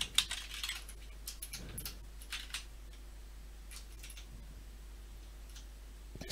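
Typing on a computer keyboard while searching for a gauge in the Ride motorcycle racing game, a few scattered light clicks over steady low hum, soft and close.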